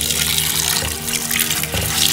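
Anchovies rinsed in water in a clay pot, with a steady splashing, running-water wash close by and no talking.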